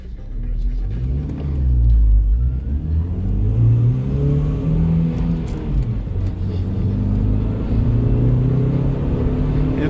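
A chipped Haval H6 with a 1.5-litre turbocharged petrol engine accelerating hard, heard from inside as a loud rising engine drone that climbs through several gear changes, with brief faint talk.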